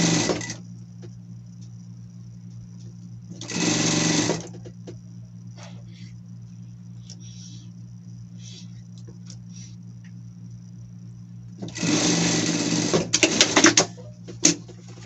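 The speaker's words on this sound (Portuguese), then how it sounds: "E aqui continuar a nossa costura." A sewing machine stitches a spring dress and cap for a pet in two short bursts of rapid whirring, one brief and one longer, separated by quiet handling noises, near and clear.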